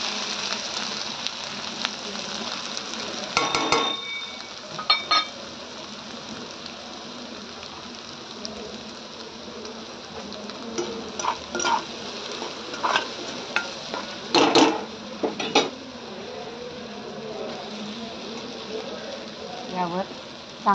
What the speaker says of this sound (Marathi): आपण भाजीची फोडणी करूया.